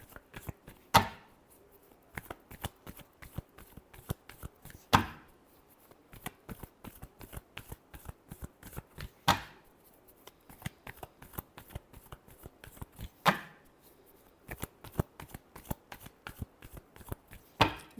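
Tarot cards shuffled by hand in repeated bursts of rapid riffling flutters, with a sharper slap or tap every few seconds as the deck is squared, close and fairly quiet, with no voices.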